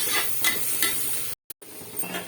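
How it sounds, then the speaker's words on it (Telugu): Ginger garlic paste frying in a pan, a close steady sizzle with a few soft stirring scrapes, cut by a short gap of silence before the frying resumes. "మొత్తం పచ్చివాసన పోయేదాకా కొద్దిసేపు ఫ్రై చేసుకోవాలి."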